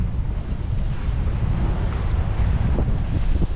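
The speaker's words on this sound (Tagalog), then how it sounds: "lakas ng hangin" Strong wind at a seaside port buffets the microphone in loud, continuous gusts, a heavy low roar with a faint wash of water beneath it.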